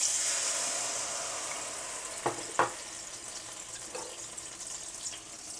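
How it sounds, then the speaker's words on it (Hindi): Masala frying in oil for saucy chicken wings hisses in a steady, fairly quiet sizzle, with a couple of brief clinks or stirring knocks breaking through midway; no talking. "थोड़ा सा पानी डाल देंगे क्योंकि मसाले जल जाते हैं।"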